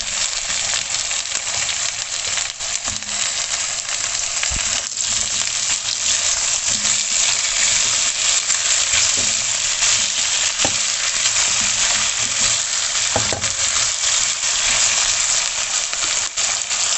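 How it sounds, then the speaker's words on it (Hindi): Sliced potato rounds fry steadily in oil in a pan, a continuous loud sizzle with occasional stirring clinks, no voices. "आलू डाल के इनको मैं तकरीबन 3 से 4 मिनट के लिए भूनूंगी।"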